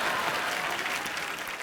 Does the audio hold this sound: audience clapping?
yes